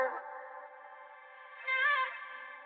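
A sustained vocal tone smeared by heavy reverb in a future house remix, swelling louder near the end before trailing off into a lingering wash.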